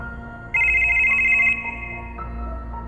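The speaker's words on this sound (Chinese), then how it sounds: "最后，我的手机又再次响了起来。" A mobile phone rings out suddenly in a quiet room, a steady electronic tone lasting about a second over a low background hum.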